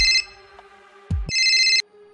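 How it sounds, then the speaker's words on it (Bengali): A phone ringtone sounds in two bursts of bright, harmonic electronic tones, a short one at the start and a longer one after a brief low thump, clear and close with no talking. "ঠিক তখনই তার কাছে একটা ফোন এলো।"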